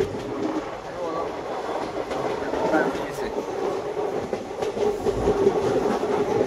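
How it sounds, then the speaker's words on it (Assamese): A train runs along a winding railway between Guwahati and Mahur, heard from inside as a continuous rumbling roar with faint wheel clatter, steady and fairly loud throughout. "ট্ৰেইন চাওক কিমান হালি গৈছে মানে কিমান বেছি টাৰ্ণিং"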